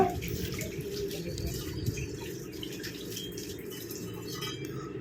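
Aloe vera leaves being washed under a running kitchen tap, a steady stream of water splashing and trickling at close range, with no voices.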